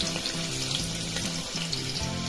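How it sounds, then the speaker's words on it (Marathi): Onion hitting hot oil in a pressure cooker produces a loud, steady frying sizzle that fills the whole moment, close and continuous with no talk over it. "तेल गरम झालेलं आहे त्यामध्ये कांदा घालून घ्यायचा आहे"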